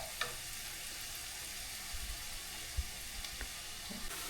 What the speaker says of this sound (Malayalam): നമ്മുടെ ഉള്ളി നല്ലോണം വഴന്ന് വന്നിട്ടുണ്ട്.